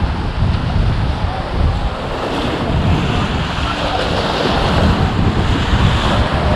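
Bow wave of a racing yacht in a classic yacht race, a steady loud rush of splashing water and surf mixed with heavy wind buffeting the microphone, continuous with no voices.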